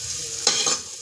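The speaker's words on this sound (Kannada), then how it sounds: "ಫ್ರೈ ಮಾಡ್ಕೊಳ್ಳೋಣ." Onions frying in a pan for horse gram gojju, a steady sizzle broken by two brief, louder bursts of stirring and scraping.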